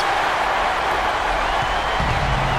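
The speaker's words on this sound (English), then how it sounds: "How about the intensity and focus of the crowd here? So loud in this place." Arena crowd roar in the basketball video game NBA 2K15 during a Warriors at Clippers game, a loud continuous wash of cheering and applause filling the space.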